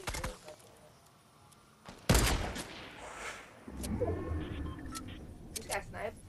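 Video game gunfire with sharp shots, one loud close burst at about two seconds followed by scattered distant cracks, heard beneath players chatting.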